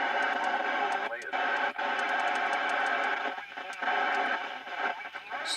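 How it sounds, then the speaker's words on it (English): A Thunderpole T-800 CB radio picks up a garbled single-sideband transmission, a steady hissing, warbling band of distorted voice-like noise with brief dropouts and crackles, loud and continuous throughout. "Sounds like some illegal SSB"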